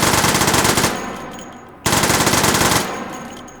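Burst fire from a cursed gun in the VR game Hot Dogs, Horseshoes and Hand Grenades: two loud rapid volleys of many shots each, the second starting right after the first ends, with no talk.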